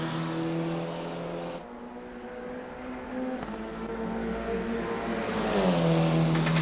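A KTM GT4 race car drives Mount Panorama at Bathurst, its engine droning steadily with shifting harmonic tones, dipping around a gear change and rising again toward the end as it accelerates, loud and continuous with no talk.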